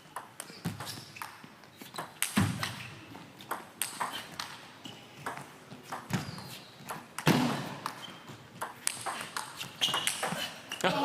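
Table tennis rally between attacker Wang Chuqin and defender Ruwen Filus in a 2023 match: a long run of sharp ball hits ringing off bats and table in an irregular back-and-forth rhythm, loud and close over arena ambience, with no talk.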